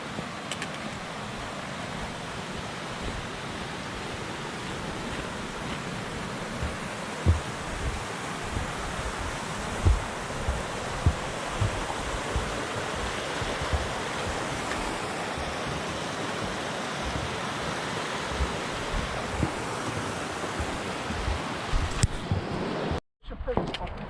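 A stream flows steadily at a trail water crossing with a bridge, on the Bonneville Shoreline Trail, with footsteps crunching along and occasional soft thumps, before a brief quiet break near the end.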